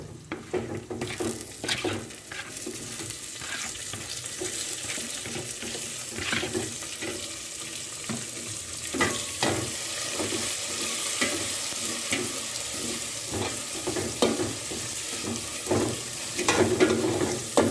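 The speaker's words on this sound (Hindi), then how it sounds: "अभी इसमें हम डालते हैं टमाटर" Tomatoes go into a frying moong and masoor dal masala, which sizzles steadily while a spoon scrapes and stirs in irregular strokes, close and moderately loud, with no talking.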